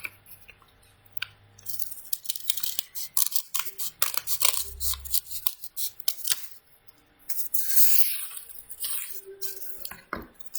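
Scissors snip through folded paper to cut out its inside, a series of close, irregular crisp snips and paper rustles at a quiet level.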